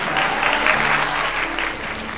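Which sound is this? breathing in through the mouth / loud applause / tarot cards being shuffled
loud applause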